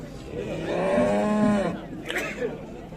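Cattle at the Şarkışla livestock market, with one long, loud, close moo that swells and falls, then a shorter call, amid faint crowd noise.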